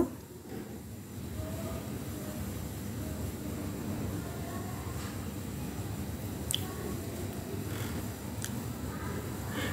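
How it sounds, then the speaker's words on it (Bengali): Potatoes, prawns and onions fry in a pan with a soft, steady sizzle and faint crackles, with a few sharp pops standing out near the end. "আলু চিংড়ি মাছ আর পেঁয়াজের সাথে এটা আমি 2 মিনিট প্রথমে ফ্রাই করে নেব"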